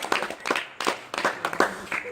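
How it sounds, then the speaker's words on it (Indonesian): Audience applause in a hall during a humorous Papuan mop storytelling performance: scattered clapping over several seconds, mixed with crowd voices and talk. "Tepuk tangan dulu."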